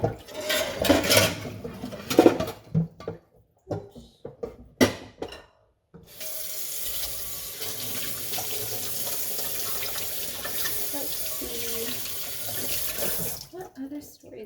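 Dishes clink and rub in a kitchen sink at first, then a faucet runs steadily for several seconds, with a voice speaking briefly over the early clatter.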